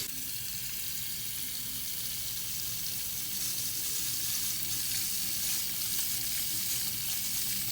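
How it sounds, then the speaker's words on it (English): Water running from a newly installed bathroom faucet into an old drain, a steady bright hiss and splash of flow close by, continuous and alone without talk. "Running water."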